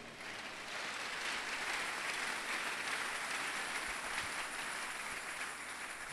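A church congregation applauds the Lord during a sermon, a steady wash of many hands clapping that holds loud and even for about six seconds.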